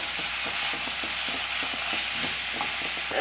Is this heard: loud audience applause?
no